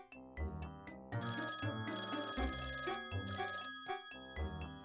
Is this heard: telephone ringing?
yes